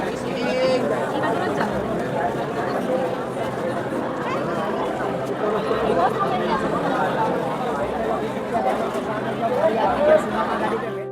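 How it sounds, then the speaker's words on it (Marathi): Dense crowd chatter at the entrance of Dwarka temple, a continuous hubbub of many overlapping voices close by, steady throughout with occasional louder calls. "गर्दी बघू शकता किती गर्दी आहे."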